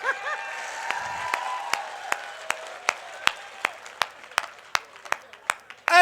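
An audience at a poetry recital breaks into applause, a dense wash of clapping with a steady rhythm of sharp, loud claps that carries through to the end.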